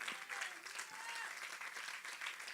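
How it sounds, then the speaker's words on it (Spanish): Congregation at a church service applauds, a dense, continuous wash of clapping that stays even and fairly faint throughout. "Denle un aplauso al Señor en esta mañana."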